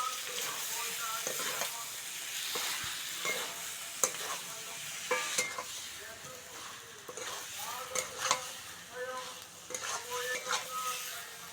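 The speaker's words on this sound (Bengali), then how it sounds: "ভেজে রাখা আলু পটল আবারও ভালো করে কষে নেবো" Prawns being stir-fried with fried potato and pointed gourd in a Bengali kitchen, a steady sizzle broken by repeated spatula scrapes and clacks against the pan, with no voices.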